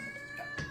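A cat gives a short, clear meow close by, and the sound ends almost at once.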